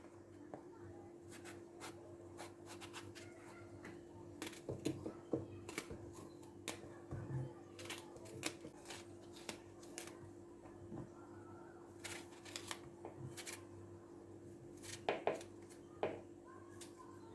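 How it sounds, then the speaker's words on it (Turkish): Quiet, repeated knife taps and chops on a cutting board in an uneven rhythm as peeled eggplant is diced into cubes, with faint background noise. "Soyduğumuz patlıcanları küp küp doğruyoruz."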